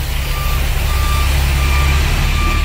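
Loud, steady reversing beeps from a big truck maneuvering, repeating evenly over a heavy low engine rumble close by.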